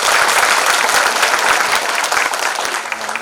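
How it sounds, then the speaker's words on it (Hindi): Loud, dense clapping from a school event audience, a full crowd applauding for children's performances, steady and then thinning near the end. "दूसरी तालियां आप अपने बच्चों के लिए बजाएं जिन्होंने बहुत अच्छा परफॉर्मेंस किया।"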